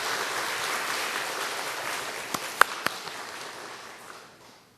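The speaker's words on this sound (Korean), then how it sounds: "우리 박수로 한번 같이 한번 고맙다 표했으면 좋겠습니다." A church congregation at a Sunday service applauds in a large sanctuary, a dense steady clapping that gradually fades out, with a few sharp individual claps standing out near the end.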